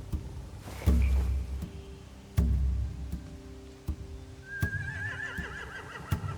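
A horse whinnies in The Walking Dead video game with a rising, wavering call near the end, after a few heavy thuds and bumps over a low background hum.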